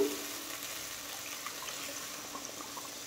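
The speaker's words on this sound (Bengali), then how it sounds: "এখন আমি জল দিয়ে দিচ্ছি।" Water poured into a pan of prawn curry, a steady soft trickling wash with faint splashy flickers running throughout, close and fairly quiet.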